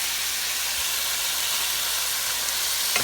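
Ginger and garlic sizzle in a pan while shrimp biryani cooks, a dense, steady close-up hiss with no talking.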